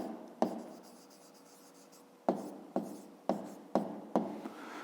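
A pen or pencil writes an answer to a fifth-grade maths exercise by hand: a few crisp, close strokes, then a pause of scratching quiet, then a quick run of five sharp taps and scrapes.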